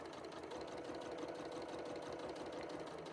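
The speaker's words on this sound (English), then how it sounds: "and then I can start sewing." A sewing machine stitches fabric in a continuous, steady whirring run with no pauses, close and fairly loud throughout the short stretch.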